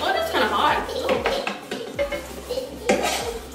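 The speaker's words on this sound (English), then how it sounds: "Ooh, they're already sizzling. So we're gonna just kind of flip them around." Food being stirred and flipped in a hot pan, with metal utensils scraping and clinking against it in quick rhythmic strokes over a background sizzle, close by.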